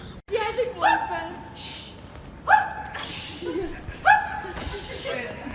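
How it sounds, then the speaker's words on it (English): A dog barks in short sharp bursts, three or four close, loud barks spaced a second or two apart, with a brief yip at the start and quiet room noise between. "This has to be the bravest dog I've ever seen."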